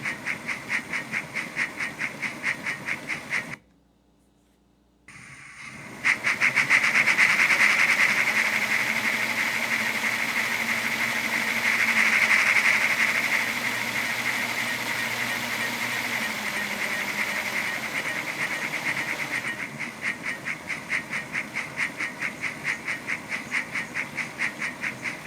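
Soundtraxx Econami DCC sound decoder in a Hornby 9F model plays an LNER A4 steam locomotive sound: a steady hissing steam chuff with a brief silence near the start, then continuous rhythmic exhaust at moderate level, no talking.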